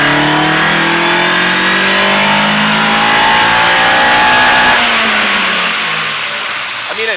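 A Nissan Silvia S15 Autech engine revs hard and steadily at high RPM on a dyno, loud and close, pitch climbing then easing off near the end.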